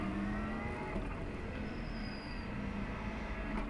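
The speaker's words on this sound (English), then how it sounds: "showing just how much power this massive V8 supercar has got. A 5-litre V8 under the bonnet" Classic touring cars with 5-litre V8 engines on a green flag lap behind the pace car at Silverstone, a continuous roaring drone of engines at moderate distance, steady without clear passes.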